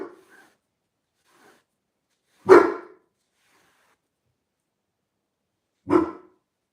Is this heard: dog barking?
yes